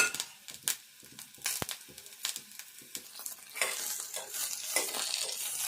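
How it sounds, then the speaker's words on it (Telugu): Green chillies fry and get stirred in a pan for a Telangana chilli pickle, with crackling sizzle and repeated scraping strokes, close and fairly loud, no speech. "ఈ మిర్చిని ఇట్లా దూరగా వేపుకోవాలి."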